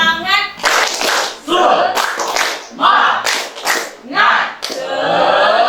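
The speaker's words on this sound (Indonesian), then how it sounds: "Oke. Tepuk semangat." A classroom of students performs a rhythmic spirit clap, sharp bursts of many hands landing in a steady pattern while voices chant along loudly between the claps.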